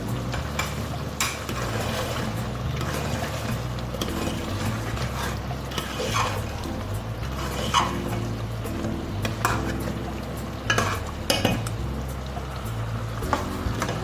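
Mutton stew with spices being stirred and roasted in oil, steady sizzling and frying under repeated spoon scrapes and clinks against the pot, close and continuous, no talk.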